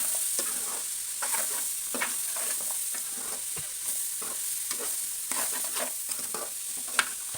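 Turmeric being stirred into an egg and broad bean curry in a pan, a steady soft scraping and stirring with a faint sizzle underneath, close and continuous.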